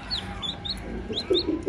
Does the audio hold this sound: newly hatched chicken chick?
yes